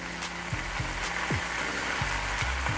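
Mushrooms sizzle and fry steadily in a hot pan, with several soft thuds and scrapes of pressing against the pan.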